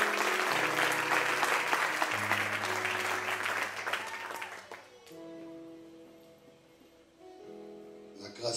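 Congregation clapping during an evangelical church service, loud sustained applause with music tones underneath, fading after about five seconds into quieter organ-like sustained notes.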